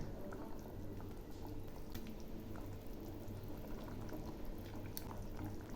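Rohu fish pieces go into a thin, gently simmering curry in a pan, giving a soft continuous bubbling and liquid burble, faint and steady throughout, with no talking.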